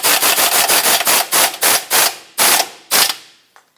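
A hand ratchet snugs a tie rod mounting nut on a Mazda 6, giving a quick run of sharp close clicks that slows into a few spaced, heavier bursts before stopping.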